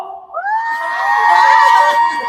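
A protest crowd at a night-time candlelight rally in front of the National Assembly roars back in unison: a loud, sustained mass of many voices that rises and holds for a couple of seconds.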